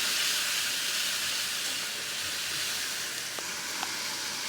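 Turmeric, chili, coriander powder and salt frying in a pan, a constant loud sizzle and hiss with a couple of faint clicks of utensils and no voices.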